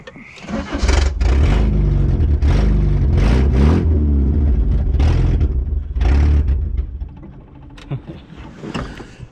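An old Toyota Hilux that sat for over 20 years runs unevenly with the choke open, its engine loud and close, surging and revving in rough bursts rather than holding a steady idle.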